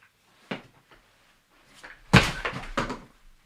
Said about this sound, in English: I knocked the camera loose.